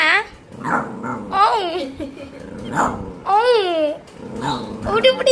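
A pet dog gives a series of barks, growls and drawn-out whining vocal sounds in short bursts, close and loud, while people chatter and call out around it.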